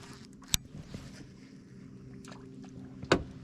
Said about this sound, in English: Just don't want to get too close with this motor making that noise